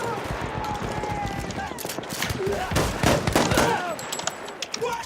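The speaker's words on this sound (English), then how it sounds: "This is the trench shotgun." Trench shotgun fire in the video game Battlefield 1, with sharp bursts scattered among busy battlefield noise and other gunfire, while a person talks over the action.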